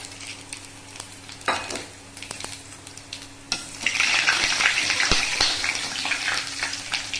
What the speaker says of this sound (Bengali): এবারে আমি তেলটা, ওই বাকি তেলটার মধ্যেই এই ফোড়নগুলো দিয়ে দেবো।